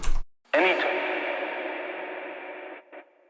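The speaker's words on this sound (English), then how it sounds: "now I have this reverb tail that I will use" A short burst of sound trails off into a long, smooth reverberant wash recorded in Ableton that slowly fades, then a brief faint blip follows before silence.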